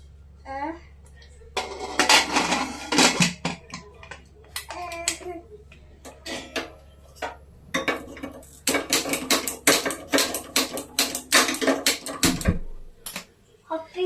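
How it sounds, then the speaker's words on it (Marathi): Metal clatter and clanks as a pressure cooker lid is fitted and pressed shut, with scattered knocks over steady background hum, then a brief low thump near the end. "असं व्यवस्थित ठेवल्यानंतर कुकरचं झाकण लावून घ्यायचं आहे"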